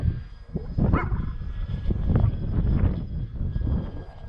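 A Bitgo Hobby B26 radio-controlled model plane on its maiden flight makes a full-power flyby, its engine buzz rising and holding steady under gusty wind, with a dog barking nearby.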